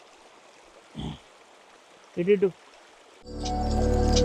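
A forest resort stream in Maredumilli, Andhra Pradesh, flows in a steady rushing wash that swells up loudly near the end, after a short spoken word and a brief voiced sound in otherwise quiet air.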